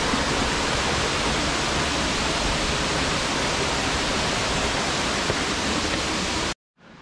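Santo Niño Falls on the Sampaloc–Tanay loop in the Sierra Madre pours in a dense, loud, steady roar of falling water close by, running unbroken until it cuts off abruptly at the end.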